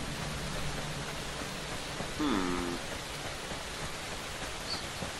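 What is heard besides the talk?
rain in the video game Fear the Wolves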